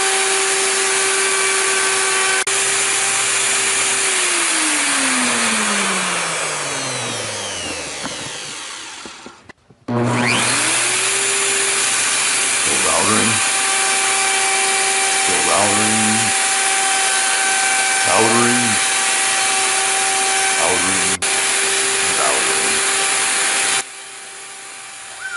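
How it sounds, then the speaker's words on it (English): A handheld router fitted with a round-over bit shapes the edges of wooden work tables, a loud steady whine that winds down, then restarts, with repeated dips in pitch as the bit bites into the wood. "we're just doing a little round over bit, going around the edges with the router."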